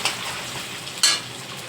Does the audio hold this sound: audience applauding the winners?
no